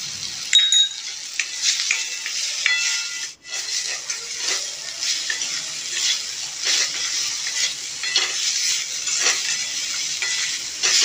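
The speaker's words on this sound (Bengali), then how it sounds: "করলাগুলোকে ভালো করে মিশিয়ে নেব" Bitter gourd (karela) is stirred with salt in a hot pan, giving a steady sizzle with scraping and clinking spatula strokes and a brief pause partway through. No one speaks.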